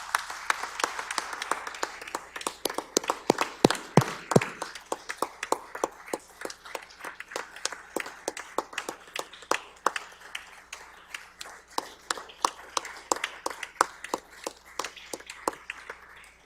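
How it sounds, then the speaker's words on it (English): A crowd claps in sustained applause for the state's first woman governor at a State of the State address, with dense hand claps starting strong and holding steady as a long, even round with no talk over it. "Please join me in a round of applause to pay tribute to this remarkable leader, the first woman governor of our state"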